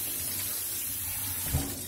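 Tap water runs steadily into a kitchen sink while fish and vegetables are rinsed for steaming, a continuous moderate hiss with a brief splash near the end.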